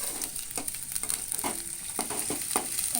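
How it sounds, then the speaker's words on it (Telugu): Onions, spring onions and ginger-garlic paste fry in a pan for a chicken curry, giving a soft continuous sizzle with intermittent stirring scrapes and crackles, fairly quiet and close, no voices. "ఉల్లిపాయలు, ఉల్లికాడలు మంచిగా వేగిన తర్వాత అల్లం వెల్లిపాయ పేస్ట్ అయితే వేసుకున్నామండి"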